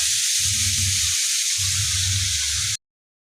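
Ground onion, ginger and garlic paste frying in hot oil with cinnamon, cloves and cumin for a mushroom gravy, a loud, constant close sizzle with low bubbling pulses, cutting off abruptly near the end.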